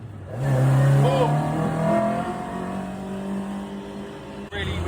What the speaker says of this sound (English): put the accelerator all the way down